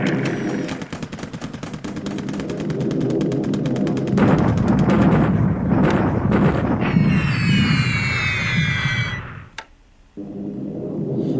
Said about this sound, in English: Standard Chinese bombardment